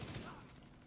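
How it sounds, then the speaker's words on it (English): Gunfire in The Division 2 video game, a steady dense wash of shots and combat noise filling the whole moment, with a voice briefly underneath. "Oh man, they're shooting me."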